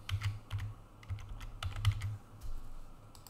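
Fingers tap quickly on a computer keyboard, producing close, crisp clicks in short irregular bursts with brief pauses, and no one speaking.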